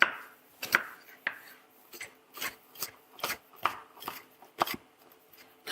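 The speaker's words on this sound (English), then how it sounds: "I'm just going to do a small chop" Onions are cut into a small chop with a knife, giving about a dozen crisp, fairly regular chopping strikes against a board, close and clear with no talking.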